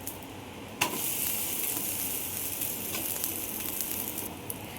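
A cheese dosa sizzling steadily on a hot pan as it is flipped, with a brief soft knock near the start and a continuous hiss underneath, no one speaking.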